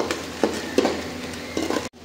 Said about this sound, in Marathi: काळे मिरे, त्यानंतर शाही जिरे टाकून घेऊन व्यवस्थित हलवून घेणार आहोत।